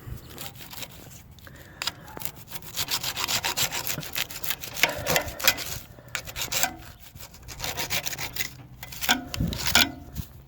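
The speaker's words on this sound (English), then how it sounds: "This bit might still need a little sawing." A handsaw cuts through wood in a garden in irregular bursts of rasping back-and-forth strokes, close and moderately loud, with short pauses between runs of strokes.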